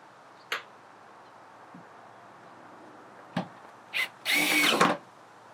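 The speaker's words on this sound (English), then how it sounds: "Using longer self-drilling screws" A power drill drives self-drilling screws into the metal of a food trailer during a concession window install: a few short sharp taps and buzzes, then a louder whirring burst of under a second, close and alone.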